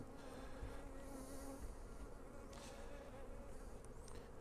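Honeybees hum in a dense, steady buzz around hive frames of brood during a hive split, close and continuous, with individual bees droning past.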